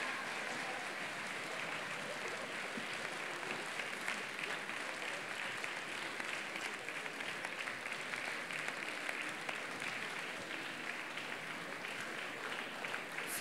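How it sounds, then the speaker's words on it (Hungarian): Sustained audience applause sends off child performers at a jubilee Pászti Day stage show, a steady, dense clapping that holds evenly throughout with no speech over it. "Szerintem búcsúztassuk tapssal ezeket a gyerekeket."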